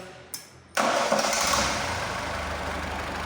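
The belt-driven engine of a Lada VAZ 2105 cranks and catches, then settles into a steady, even idle, close and fairly loud.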